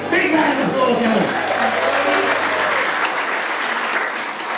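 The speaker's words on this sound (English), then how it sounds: "Big round of applause, Helen." A pantomime audience claps loudly and continuously after a Happy Birthday song, with dense, sustained applause that fades slightly toward the end.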